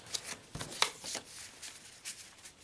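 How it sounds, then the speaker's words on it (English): Game cards in a CCD Football play test are shuffled and scattered on a table, giving a few crisp riffling bursts and soft sliding rustles, close and fairly quiet with no talking. "I do a shuffle, and then I scatter them, and then I do a shuffle."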